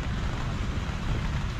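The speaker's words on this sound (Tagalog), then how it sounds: "Yun ang hinahanap-hanap natin ng umaga, ulan" Heavy morning rain drums down steadily, a loud and close hiss with a deep low rumble beneath it, unbroken and even across the whole moment.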